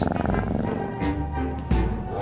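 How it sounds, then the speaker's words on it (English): A female Carnotaurus purrs softly in a dinosaur animation: a low, steady, throaty rumble with a gentle pulsing rhythm, close and fairly quiet, joined at the end by a deeper thump. "She's doing her best to try to attract him by purring softly to him"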